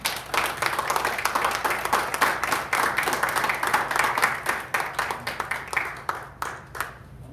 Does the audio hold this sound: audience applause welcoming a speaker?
yes